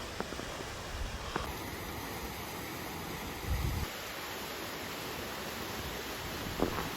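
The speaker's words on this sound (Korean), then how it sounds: "여기 영오름 폭포네요" A waterfall on a winter mountain hike in the Jinan highlands of Korea gives a soft, continuous rushing hiss at a distance, steady and low in level, with a few faint rustles over it.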